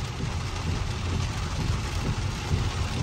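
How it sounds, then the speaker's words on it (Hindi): Heavy rain falls during a road journey from Haridwar toward Neelkanth, beside the Ganga, making a steady, dense hiss over a constant low vehicle rumble throughout, with no talk. "और बारिश हो गई है फुल स्पीड पे"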